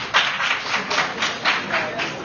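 A small debate audience claps in a short burst, roughly a dozen distinct claps in quick irregular rhythm, fairly close and moderately loud, with a faint murmur of voices underneath.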